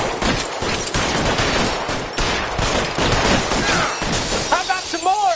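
Dense gunfire rattles through a shootout in the video game L.A. Noire, continuous loud overlapping shots and bursts filling the whole span, with a voice briefly speaking near the end.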